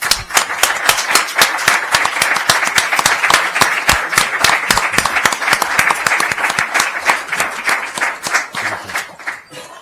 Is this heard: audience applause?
yes